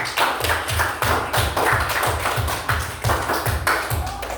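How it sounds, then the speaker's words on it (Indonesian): Children in a classroom clap together in a steady, rhythmic group beat for the forest team, a repeated pattern of loud claps with no talking. "Tepuk tangan untuk kelompok hutan."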